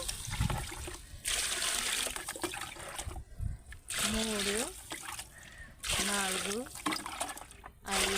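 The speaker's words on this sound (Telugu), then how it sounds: "ఇప్పుడు ఎనిమిది రోటాలు వాటర్ అయితే వేసుకోవాలి" Water poured in repeated bursts into a large pot of dum biryani gravy, several separate splashing pours separated by short pauses, with a person speaking between and over them.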